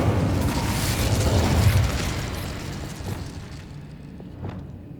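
A fiery Incendio spell blast in Hogwarts Legacy erupts as a loud, rumbling burst that swells over a couple of seconds and then fades into a crackling decay, with a smaller pop near the end.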